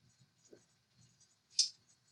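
Marker or pen writing out a chemistry formula by hand, faint short scratchy strokes with quiet pauses between them and one brief louder squeak near the end.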